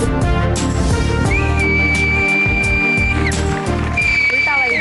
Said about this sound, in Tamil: விசில் அடிக்கிறியாமா?